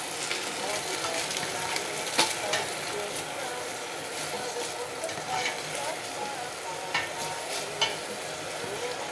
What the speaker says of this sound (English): she's gonna stir fry the curry paste for about 5 minutes